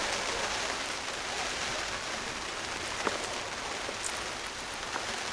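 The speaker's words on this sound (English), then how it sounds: "It's just raining a bugger off." Steady heavy rain hisses evenly throughout, dense and close, with a few louder drips standing out and no talking.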